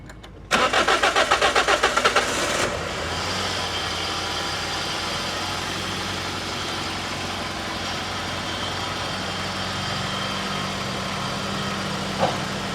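A Toyota Corolla XLi cranks briefly with a rapid whirring starter burst, catches, then settles into a steady, fairly quiet idle with faint irregularities.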